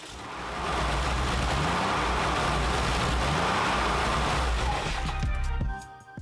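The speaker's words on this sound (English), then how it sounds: "an air-cooled 6-cylinder boxer engine from the Porsche 993" A modified air-cooled 3.6-liter six-cylinder boxer engine from a Porsche 993, fitted in a Karmann-bodied car, roars loud and steady close by for several seconds before the sound drops away near the end.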